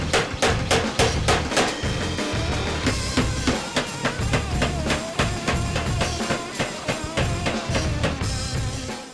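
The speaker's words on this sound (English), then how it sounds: "Using the custom sword furnace, Sam heats the blade and draws it out on the power hammer." A power hammer pounds a heated steel katana blade, drawing it out in a fast, steady series of heavy blows, loud and close, with the rhythm continuing throughout.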